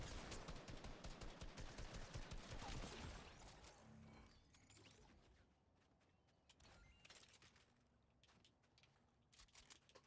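Hand cannon gunfire in the video game Fortnite, heard as a rapid string of sharp shots over the first few seconds, then sparser faint bangs and clicks, all fairly quiet.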